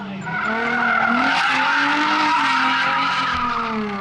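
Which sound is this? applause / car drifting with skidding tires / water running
car drifting with skidding tires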